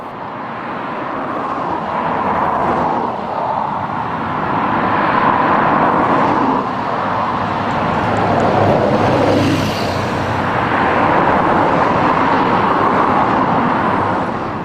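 A London bus pulls toward the entrance of the Queen's Parade car park, a steady broadband diesel rumble with passing traffic that swells slightly as it nears and holds, no talk over it.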